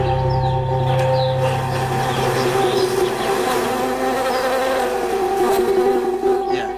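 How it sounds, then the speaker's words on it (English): Honeybees swarm around hives set out in a spring almond orchard for pollination, a loud, continuous buzzing drone with individual bees zipping past close by. "Every spring, billions of bees are brought here to help pollinate the almond trees."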